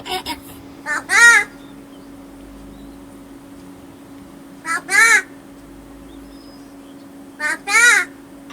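A pet crow raised by a tribal family in Maharashtra caws loudly up close in three short bursts of two or three calls each, with a steady hum beneath and quiet gaps between.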